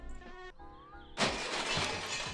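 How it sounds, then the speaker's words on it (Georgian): Glass shatters in the video game My Summer Car as an engine is dropped through it, a sudden loud crash with scattered tinkling debris following a quieter stretch of game sounds. "შუშა ჩაუმტრიე ძრავით"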